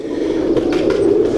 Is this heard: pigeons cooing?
yes